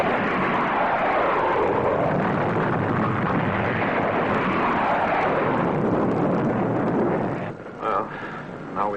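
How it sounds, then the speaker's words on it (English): A spacecraft fires missiles in a roaring, rumbling burst that holds steady and loud for several seconds, then drops away into a few sharper bursts near the end, in the style of a 1954 space serial sound effect. "Fire missiles!"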